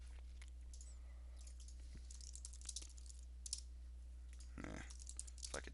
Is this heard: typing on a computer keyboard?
yes